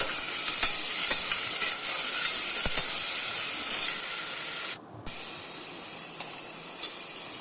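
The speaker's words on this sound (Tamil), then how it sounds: "நல்லா வதங்கினதுக்கு அப்புறமேட்டுக்கு 2 தக்காளி ஆட் பண்ணிக்கோங்க. அதுவும் நல்லா குக் ஆகட்டும்." Tomatoes with salt cook in a pan of sautéed onions for mutton soup, giving a steady close hiss and sizzle with scattered light stirring clicks and a brief dip in sound partway through.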